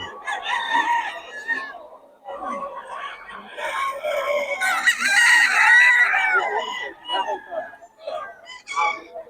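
Several roosters crowing one after another in Bocaue, loud and close, with clucking fowl in between and a brief background voice.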